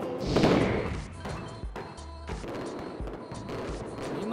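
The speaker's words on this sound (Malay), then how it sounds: "Nampak dia mula bakar pun dia akan bakar mercun dulu." Firecrackers set off at a fireworks show burst in a loud cluster of sharp pops and thuds, then keep crackling in scattered bangs throughout.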